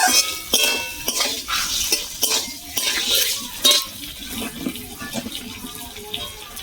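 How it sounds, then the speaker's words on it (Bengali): Potatoes with spices stir-fried in a pan for a cabbage dhoka recipe, heard as repeated close scraping and clinking strokes of a spoon against metal over a light sizzle. "এবার দিয়ে আর 2 মিনিট ভালো করে কষিয়ে নেবো"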